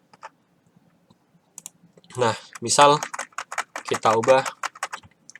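Computer keyboard typing a command, quick clicky keystrokes in bursts, brief and isolated at first, then a dense run, while someone speaks over part of it.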